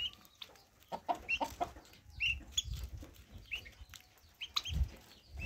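Turkey poults and chicks chirp contentedly while feeding, giving a scatter of short, bright, high peeps close by, with soft low bumps and shuffling underneath and no talking.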